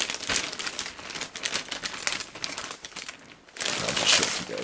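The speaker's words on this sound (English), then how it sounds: "Just kind of tear the sticker right here." Crinkling plastic wrap and a peeling sticker being torn off a new HP ProBook laptop during unboxing, a close, busy run of crackles and rustles that swells louder near the end.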